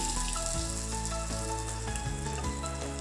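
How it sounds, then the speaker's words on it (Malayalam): Butter heats in a pan for pasta, producing a steady, continuous close sizzle and crackle with no talking. "അതിലോട്ട് ബട്ടർ ഇട്ട് കൊടുക്കുക. ബട്ടർ ഒന്ന് ചൂടായി വരട്ടെ."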